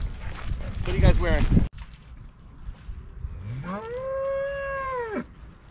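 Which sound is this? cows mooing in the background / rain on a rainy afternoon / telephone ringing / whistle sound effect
cows mooing in the background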